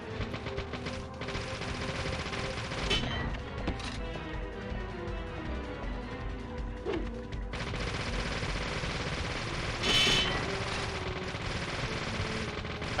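A heavy gun in the video game Deadly Premonition fires sustained automatic bursts, loud and dense, with a few brief breaks and sharp impacts.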